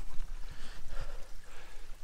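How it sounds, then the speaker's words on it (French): A mountain stream flows along a forest hiking trail in the Jura, making a steady, broadband rush of water that stays close and fairly loud for the whole stretch, with no voices. "il y a un magnifique ruisseau."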